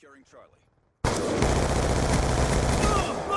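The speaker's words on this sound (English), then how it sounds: "he misses and his pistol shooting is way off" Pistol gunfire in the Black Ops 2 multiplayer map Meltdown, a dense loud burst of rapid shots that cuts in abruptly after a brief quieter moment with faint voice-like sound, then continues for over two seconds.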